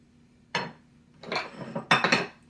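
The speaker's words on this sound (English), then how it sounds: "so now I am mixing in the liquid ingredients, just like that" Milk, eggs and butter being mixed into a gluten-free batter in a bowl, three separate bursts of clinking and scraping against the dish with quiet gaps between, close and fairly soft, no talking.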